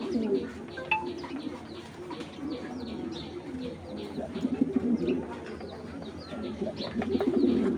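Pigeons coo in soft, repeated low throaty calls, close by, with occasional chirps and faint voices in the background.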